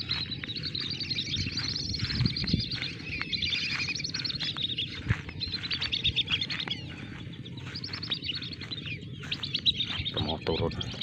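Wild birds call at night in an outdoor setting, repeated high chirps and trills layered over a steady hum that runs the whole way, fairly close and busy with overlapping calls.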